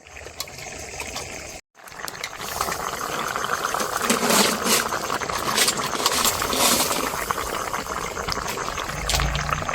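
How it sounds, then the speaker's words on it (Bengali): Plum chutney simmers in a pot after water has been added, giving a steady, close bubbling and soft crackle that carries on throughout, broken only by a brief drop to silence near the start. "কুলের চাটনিটা এদিকে ফুটছে"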